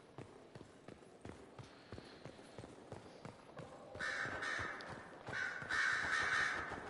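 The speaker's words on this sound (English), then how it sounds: "The cacophony of stupid ass birds driving me crazy." Crows caw repeatedly in Dragon Age Inquisition, harsh calls layered over rhythmic clip-clop hoofbeats, growing denser and louder toward the end.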